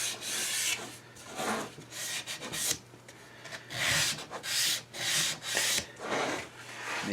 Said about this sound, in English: This is a little teeny piece of sandpaper, but this is as much pressure as I can put on.